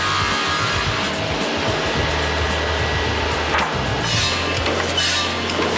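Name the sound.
wood planer levelling and cutting strips of knife-handle stock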